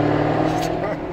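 A Jaguar F-Type R's V8 engine growls in a short, loud, throaty roar close by during a test drive, with excited voices talking over it.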